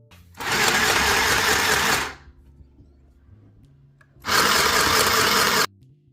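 A cheap $15 Temu sewing machine runs in two loud, buzzing bursts of about two seconds each, separated by a short quiet pause with a faint low hum.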